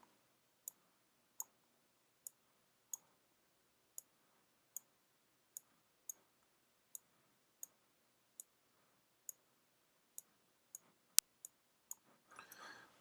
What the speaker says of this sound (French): Hop, donc je clique.